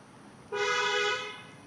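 A single sustained car horn honk sounds on a quiet Singapore street at night, loud and steady for under a second before trailing off, with no talking.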